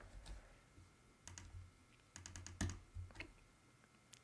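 Quiet typing on a computer keyboard, small clusters of quick key taps separated by brief pauses, close and soft, with no talking.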